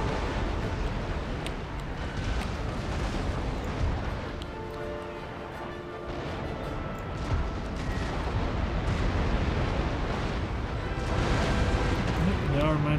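Naval cannons fire round shot in a sea battle in the Empire Total War video game, a dense, continuous rumble of booming volleys mixed with wind and surf, loud and sustained throughout.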